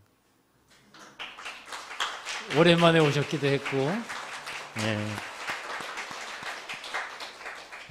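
A church congregation claps for returning members, a steady patter of many hands that runs beneath people speaking close by and carries on after the talking.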